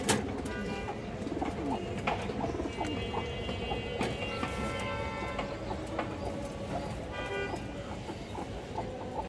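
Tournament pigeons cooing, soft repeated low coos with intermittent bird calls over a steady background hum, with brief honks and traffic noise in the distance.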